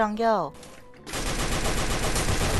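A short vocal sound, a brief pause, then a loud, continuous burst of rapid gunfire, like automatic weapons in an action game, that runs to the end.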